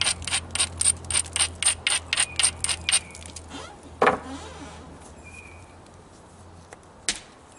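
An abrader scrapes along the edge of a novaculite flint spear point in about ten quick, evenly spaced strokes, close and fairly loud. A couple of isolated knocks follow after a pause.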